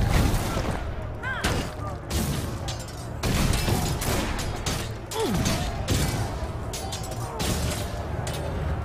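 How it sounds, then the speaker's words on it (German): Area-of-effect magic attack in the Risen 3: Titan Lords video game, a dense run of booming blasts and crackling impacts with whooshing swells, loud and sustained amid combat noise. "und jetzt mache ich einfach mal meinen Flächenangriff"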